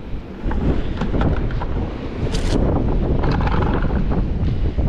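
Strong wind buffets the microphone with constant low rumbling gusts, loud and close, with no talking.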